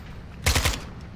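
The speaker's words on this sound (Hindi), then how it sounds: "गोलियां कौन चला रहा है मैं चला रहा हूं उस क्लेमोर को फोड़ने के लिए" A short burst of rapid automatic gunfire in Call of Duty: Modern Warfare 2, fired to set off a claymore, three or four quick loud shots close together, standing out from quieter game ambience.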